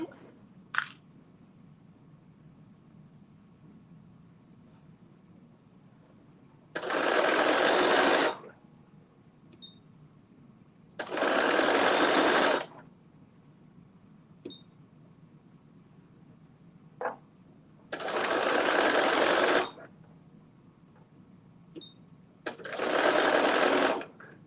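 Four separate bursts of steady, fast stitching from a nearby sewing machine, each lasting a second or two, are spaced by quiet pauses with a few small clicks.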